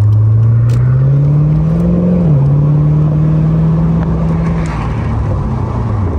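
Steady low hum of a car engine while driving, rising gently then easing off, with road and wind noise underneath.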